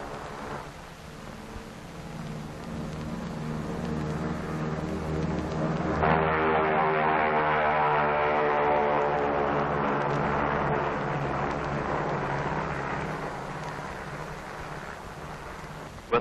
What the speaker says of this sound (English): With her escort of photographic and weather and instrument planes, Dave's dream proceeds to the Bikini target.